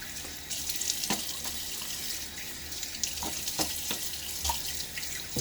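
Running tap water splashes steadily as a Gillette Fat Boy '60 safety razor is rinsed, with soft intermittent clinks and splashes over the continuous flow.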